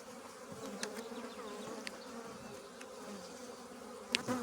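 Honey bees buzz steadily across a beehive frame at a spring apiary, a dense close swarm drone with a few sharper passes of single bees and brief handling knocks near the end.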